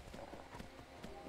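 Horse hooves clip-clop at a quick gait in heavily modded Skyrim, a faint rhythmic thudding of several steps under a busy game soundscape, with no talk.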